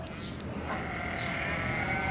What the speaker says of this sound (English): If a man owns 100 sheep